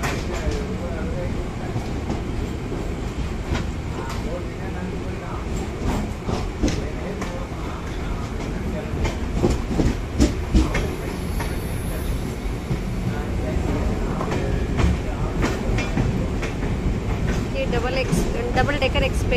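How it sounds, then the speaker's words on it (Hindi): An Indian Railways double-decker express train passes with a steady, loud rumble of wheels on rails and a continuous roar that builds slightly in the second half, while a voice talks over it. "Double express, double decker express है।"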